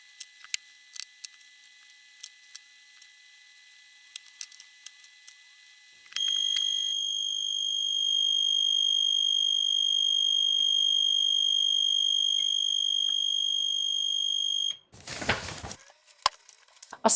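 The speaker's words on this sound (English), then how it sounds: "used for sounding an alarm in case of incorrect power plug insertion" Alarm buzzer in a 1954 Grundig Heinzelmann 1 radio setup, protected by a Zener diode, sounds a steady, loud, continuous tone for about nine seconds after clicking and handling noises, then stops with more rustling.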